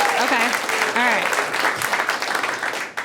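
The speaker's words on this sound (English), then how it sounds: "Clap if you're married in here." A comedy-show audience claps in a dense burst of applause that gradually thins out, while the comedian keeps talking over it.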